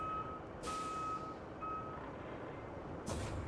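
A crane truck in the RoadCraft video game backs up with evenly spaced reversing beeps over a low diesel rumble, and two sharp air-brake hisses burst in near the start and the end.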